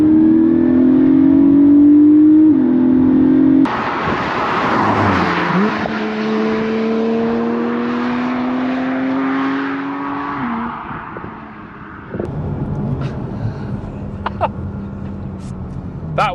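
A Porsche 718 Cayman 4.0 GTS coupe on the road accelerating hard to about 60 mph, its engine climbing through revs with gear changes marked by brief dips, then settling into a lower cruise with wind and road noise.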